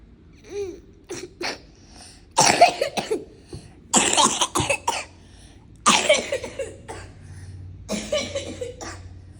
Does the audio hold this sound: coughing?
yes